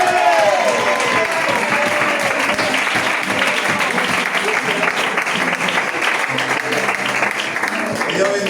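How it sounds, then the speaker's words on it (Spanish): A church congregation at a Spanish-language youth service applauds: loud, dense, sustained clapping from a crowd that fills the whole stretch without a break. "Dale un aplauso al Señor, por favor."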